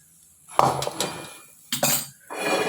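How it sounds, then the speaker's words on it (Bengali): A metal pan meets a stovetop with a sharp clank, then a second clatter follows after a pause. Both land close and are heard alone, during the preparation of stuffed bitter gourd. "প্যানটা বসিয়ে দিলাম"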